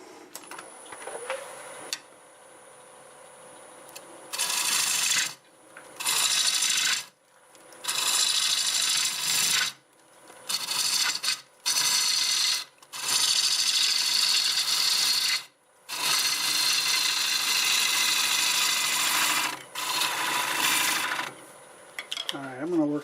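A tool cuts a chunk of black walnut wood turning on a lathe. Repeated bursts of loud scraping and cutting noise are separated by short pauses over a low running hum.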